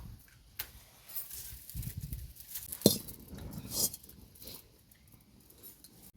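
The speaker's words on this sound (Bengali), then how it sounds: "এখন আমি উনুনটা ধরিয়ে কড়াটা চাপিয়ে দেবো" Metal wok set down on a home stove while cooking puffed rice sweets: a single sharp clink of metal on metal, followed by softer scraping and handling noises, fairly quiet with no talk.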